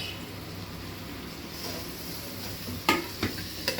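Chopped tomatoes stirred in a hot pan for a vegetable biryani, a steady soft sizzle with a few sharp utensil clacks near the end, no talking.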